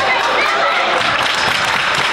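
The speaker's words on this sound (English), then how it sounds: "That's the varsity guys on the bench applauding that defensive effort, Mike." Varsity basketball players seated on the bench at a high school game clap in steady applause, a dense, even wash of handclaps filling the gym throughout with crowd noise mixed in.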